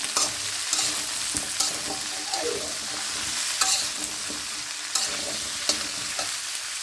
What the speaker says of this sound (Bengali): এখন লাল লাল করে ভেজে নেব